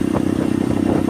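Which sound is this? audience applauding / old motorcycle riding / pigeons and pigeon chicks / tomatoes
old motorcycle riding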